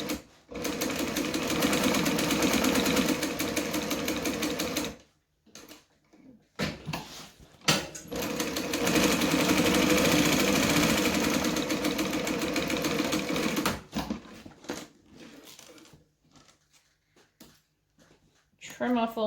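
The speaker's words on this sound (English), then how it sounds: "I'm going to back stitch to lock it in. And I'm just stitching within the seam allowance" Sewing machine back-stitching and sewing along a seam allowance on pocket fabric for a lined garment, a loud steady motor whir in long bursts with pauses between runs, speech heard in parts.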